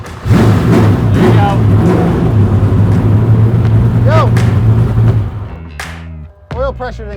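Cup race car accelerating hard down a drag strip, a loud sustained engine roar with steady pitch that cuts off sharply near the end, followed by short mechanical sounds and brief voices.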